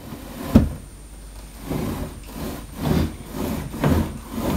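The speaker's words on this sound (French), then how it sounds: "quand on ouvre ou qu'on ferme le tiroir," IKEA Malm dresser drawer whose protruding bottom panel scrapes against the frame, several slow woody rubbing scrapes as it is pushed in and pulled out, close and moderately loud, with no talking.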